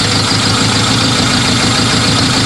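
A Suzuki car converted to run on HHO idles steadily up close, its low engine rumble and vibration continuous and even with no voices.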